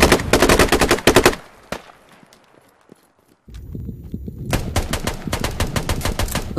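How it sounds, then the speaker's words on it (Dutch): Dense bursts of automatic gunfire from Taliban fighters in a combat video game crackle loudly, drop to scattered distant shots and quiet, then resume as rapid sustained firing. "De Taliban schieten met z'n allen."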